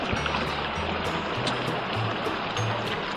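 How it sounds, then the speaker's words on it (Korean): Clear water flowing down a mountain valley stream beside farmland gives a steady, close rushing wash, with a low droning hum running underneath. "맑은 물 내리고 있고요."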